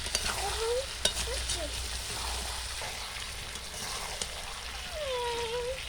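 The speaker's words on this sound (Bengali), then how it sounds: "এবার আরও একটু খুব ভালো করে কষাতে হবে।" Chicken spare parts masala with fried potatoes is stir-fried (kosha) in a pan in a village kitchen, giving a steady low sizzle under repeated scraping and stirring strokes, with a few sharp clicks and faint background bird calls.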